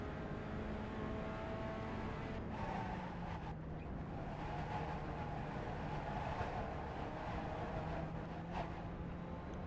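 A Pontiac Solstice racing at the Nürburgring in the iRacing sim, its engine a continuous mid-level drone with shifting pitch as the car works through corners, heard alone without speech.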